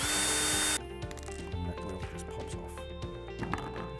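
A cordless power tool whirs in short bursts as it backs screws out of the gearbox of a Polaris Vac-Sweep 3900 Sport pool cleaner, the buzzing motor overlapping a loud noisy start and continuing steadily close by.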